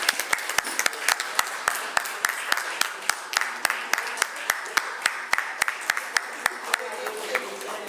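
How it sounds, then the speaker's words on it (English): Applause at a valedictory function, where a handful of people clap at a steady, moderate pace, with each clap distinct and fairly close in a quiet room. "Big rounds of applause for Chayaratan ma'am."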